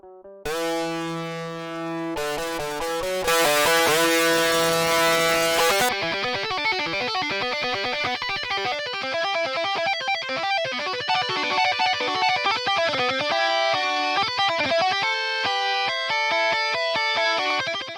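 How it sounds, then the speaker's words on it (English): Metal lead guitar lines from VST plugins in LMMS play sustained and fast melodic notes, loud and continuous for about eighteen seconds, alone without talk. "And this is how the lead guitars sound."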